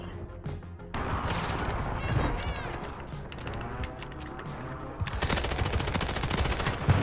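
Rapid bursts of AMR9 submachine gun fire in Warzone 3, loud and sustained across the clip with a brief lull, mixed with in-game explosions and impacts.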